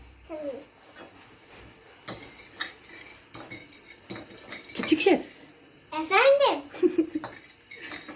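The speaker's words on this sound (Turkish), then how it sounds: "Yavaş yavaş karıştır tamam mı?" Eggs stirred in a bowl with a utensil for pogaca dough, giving a run of scraping clinks that grow busier toward the end, while a child and an adult talk close by.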